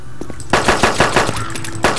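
A rapid burst of close, loud gunfire in the survival video game DayZ, roughly eight sharp shots fired in quick, slightly uneven succession.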